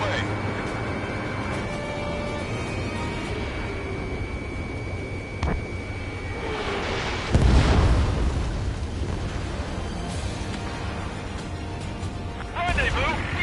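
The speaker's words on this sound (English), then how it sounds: "Missile away." Ace Combat game audio: a missile launches over a steady jet engine drone, followed by a loud blast partway through, with voices talking over the action.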